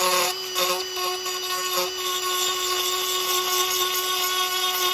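A power tool with a router-style bit gouges a shallow channel in wood for a bird feeder, a steady high-pitched whine running continuously at close range with no talk.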